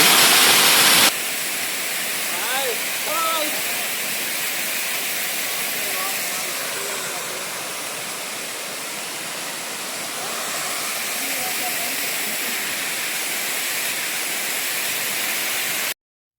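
Steady, dense rush of water pouring over rocks at Rathi Bali waterfall, loud and continuous throughout, with a few faint bird calls early on.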